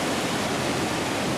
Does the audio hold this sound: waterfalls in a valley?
yes